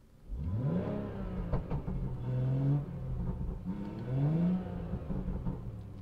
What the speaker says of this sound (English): I did want to give you guys a few revs of the car parked, so that way you guys can see what it sounds like.